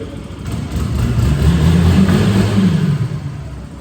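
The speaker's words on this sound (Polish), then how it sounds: "No, silnik ładnie pracuje." A 2019 Yamaha YS 125 motorcycle engine runs loudly nearby, its low rumble swelling as it revs up, holding, then easing off slightly.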